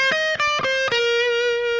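Electric guitar playing a fast legato phrase from a song's solo, a few quick bright distorted notes followed by one sustained ringing note, close and clear with no talking.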